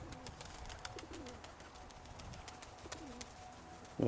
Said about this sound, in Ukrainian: Оце такі голуби в нас